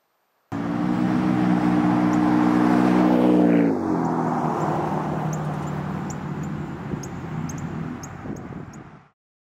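Ford F-150 EcoBoost truck with a turbo blow-off valve vent-to-air plug, engine revving loudly and then dropping off with a brief sharp whoosh near the middle, followed by a steady lower engine rumble close by.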